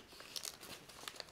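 Origami paper crinkles and rustles as a small folded pocket pouch is tucked together, a few faint, quick crisp crackles up close.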